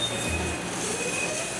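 Wheels of a cable-pulled tram in an Italian city squealing on the rails, a thin, high whine riding over a steady rumbling drone.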